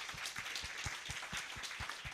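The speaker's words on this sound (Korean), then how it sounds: "우리 다 같이 하나님께 영광의 박수 올리겠습니다" A church congregation claps together in a steady rhythm during a Sunday morning service, the hands striking in unison with a roomy wash of applause around them.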